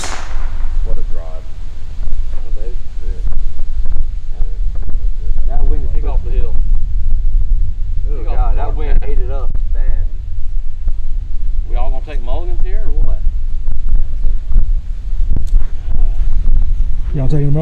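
Wind on an open golf course during a two-versus-two scramble makes a steady low rumble and buffeting on the microphone while people talk over it.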